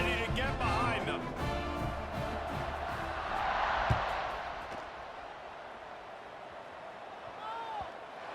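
A stadium crowd roars in a college football video game with Georgia Tech playing Colorado, a broad swell of cheering building and fading behind a commentator's steady play-by-play, with a thump partway through.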